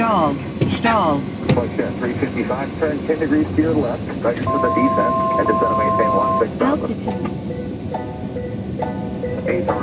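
A steady aircraft engine drone fills the cockpit of an Embraer Phenom 100 business jet flying at 80 knots while a voice talks over it, with a brief electronic tone sounding midway.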